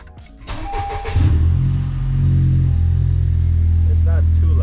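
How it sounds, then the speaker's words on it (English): A Honda Civic Type R with an Invidia R400 exhaust cold-starts up close: a brief starter whir, a sharp catch into a loud flare, then a steady, deep idle rumble. "So here's a cold start."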